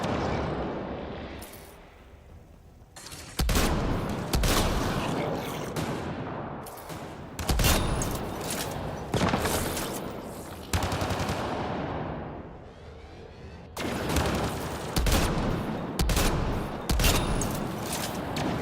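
A heavy cannon turret in Mass Effect Andromeda fires in repeated loud, booming blasts, each with a long rumbling decay, spaced a couple of seconds apart after a quieter opening.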